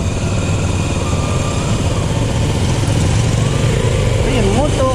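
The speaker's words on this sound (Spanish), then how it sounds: "Estoy en moto" Motorcycle engine droning steadily while riding through a town in the middle of the Peruvian jungle, a continuous loud rumble with wind and road noise throughout and no pauses.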